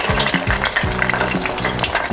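Empanadas deep-frying in oil make a busy crackling sizzle, with a rhythmic, ratchet-like buzzing pulse repeating underneath.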